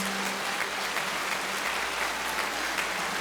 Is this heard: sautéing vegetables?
no